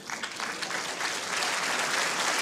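Steady applause from an indoor bowls audience at a women's singles world final, dense clapping sustained at an even level throughout with no voices.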